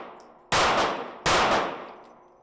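Two loud, close pistol shots ring out outdoors at a range about five yards from the target, each a sharp crack with a decaying tail, spaced under a second apart.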